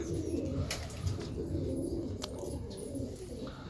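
Pigeons, including young birds just starting on feed, coo softly in a loft. Their low murmuring coos overlap continuously, with a few faint chirps and small clicks nearby.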